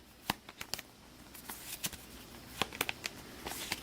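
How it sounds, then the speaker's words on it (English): Cards being shuffled for the Astro Knights Eternity board game, a series of sharp riffling snaps and flicks in irregular bursts, close up, with no talking over them. "Cthulhu once again screaming for a shuffle on the turn order discard pile"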